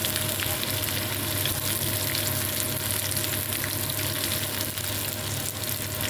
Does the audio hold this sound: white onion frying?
yes